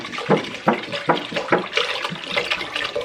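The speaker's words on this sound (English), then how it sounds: "So I'm gonna add some water here" Filtered water poured from a reused jug into a pot, a series of gurgling glugs in an uneven rhythm, close and fairly loud.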